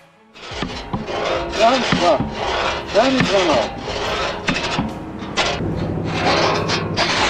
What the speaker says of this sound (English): Once everything is ready, the sawing process truly begins.